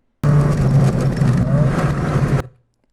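A race car on the Carolina Motorsports Park track passes close and loud as it brakes and downshifts, its engine note rising and falling for about two seconds before cutting off abruptly.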